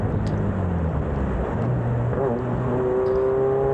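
A Formula DXB Max racing car engine revs up and down in the distance at Dubai Autodrome Club Circuit, whining pitch shifting as it slows and climbs again, steady and moderately loud.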